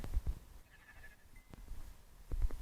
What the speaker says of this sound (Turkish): Koyun sen nereden geldin?